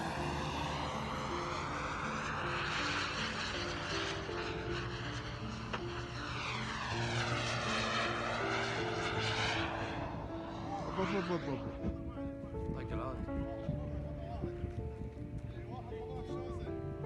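A Turkish demonstration jet flies overhead during an air display just before crashing. A loud engine roar sweeps past with a rising and falling pitch, then fades under a voice talking over it.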